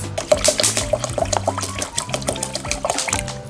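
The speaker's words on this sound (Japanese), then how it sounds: "今日は2合炊きなんで下の線まで水を入れます。" Water is poured from a tap into a rice cooker's inner pot for two cups of rice, making a close, bubbling, gurgling splash that runs for a few seconds with the pitch changing as it fills.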